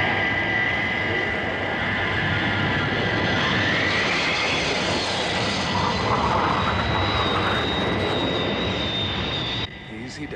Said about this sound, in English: Flaps down. Banking for final approach.